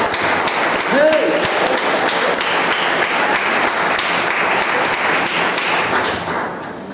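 A church congregation applauds steadily, a dense wash of clapping with scattered sharper taps throughout, fairly loud and sustained before fading slightly at the end.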